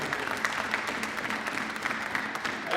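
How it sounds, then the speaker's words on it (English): Spectators at a high school basketball championship give both teams a round of applause, a steady wash of many hands clapping at moderate volume with a few sharper individual claps standing out. "If we can give both teams a round of applause"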